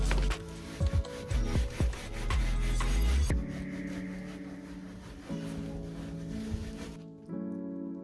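Soil is rubbed by hand onto sanded wooden planks, making a close, steady rough scraping and rasping, louder with a few knocks at first and then a softer continuous rub until near the end.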